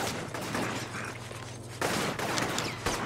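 Grenade blasts and crackling gunfire from the inFamous video game, a dense, loud burst of explosive bangs with a heavy low rumble, a brief lull, then a second sustained volley of impacts.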